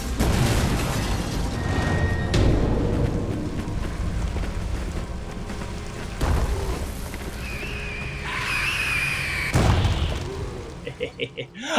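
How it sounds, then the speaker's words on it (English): Bombs blown up in the video game Mass Effect 2, heard as heavy booms and bursts over constant rumbling game noise, followed by a high squeal and a few quick pops. "There's two bombs here, blow them both up."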